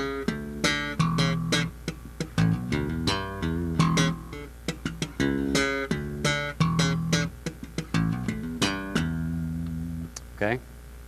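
Slap bass lick on electric bass, alternating thumb-struck low E with popped notes up the neck, a loud, punchy rhythmic run of percussive plucks with no talking.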